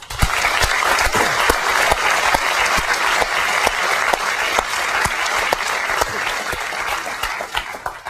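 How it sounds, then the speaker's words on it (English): Sustained audience applause at the iBook launch presentation, a steady wash of many clapping hands with individual claps standing out, continuing evenly for several seconds with no talk over it. "I'd just like to give them a round of applause"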